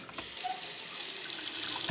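Urinal in a newly added church restroom flushing with weak water pressure, a steady close hiss of running water filling the clip from start to finish, no voices.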